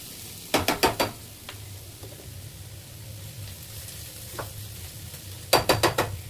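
Chopped onions for chicken curry fry with a constant low sizzle in a pan, interrupted by two quick bursts of rapid metallic scraping as a spatula stirs them, near and fairly loud.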